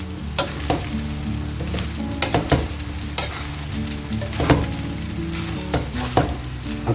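Chicken stir-fried in a pan, a constant close sizzle broken by repeated sharp scraping and clanking strokes of a utensil against the metal, no voices.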